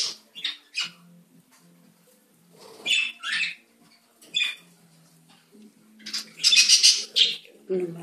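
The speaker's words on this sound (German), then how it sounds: "Hier haben wir mal Küken Nummer 1." Young chicks in a playpen give short, high chirps in scattered bursts, close and fairly clear, with quiet gaps between calls and a voice murmuring at times.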